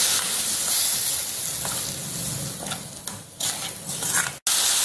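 Masala sizzling and hissing loudly in a pan after a splash of vinegar is added for a Kerala fish and anchovy pickle, a steady close frying roar with a few stirring scrapes and a brief break near the end.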